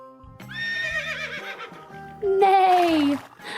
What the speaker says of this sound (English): A horse says neigh